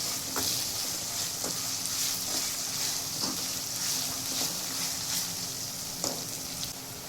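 Crushed garlic cloves sauté in a pan with a steady, close sizzle, broken by occasional light clicks of stirring as the base for tomato rice cooks.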